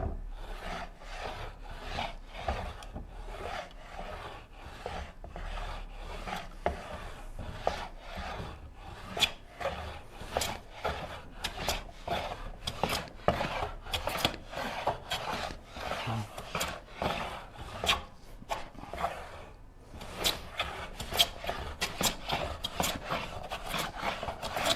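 Hand plane shaving wood for a Shaker Enfield cabinet, a steady series of rasping strokes repeating in an uneven rhythm close by, with short pauses between passes and no talking.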